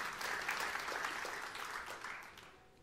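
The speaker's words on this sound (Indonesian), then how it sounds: "Yang percaya tepuk tangan yang meriah untuk kemuliaan Tuhan." A church congregation applauds during a sermon, a soft, distant wash of clapping that fades gradually toward the end.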